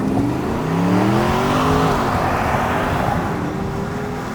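A diesel Porsche Cayenne D3 pulls away from a standstill without launch control and accelerates, its engine note climbing through the gears, loud and close, with no one talking.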